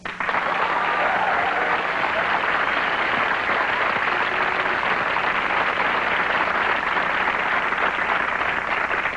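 A large audience applauds continuously, a dense, steady wash of clapping that stays loud throughout.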